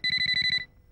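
A phone in a Telugu comedy film scene rings with a rapid electronic trill of six pulses, clear and close, then stops abruptly.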